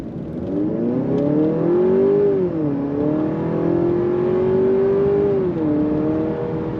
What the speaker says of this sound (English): I have it in sport mode, and we're gonna do a little bit of acceleration here just to see what it's like.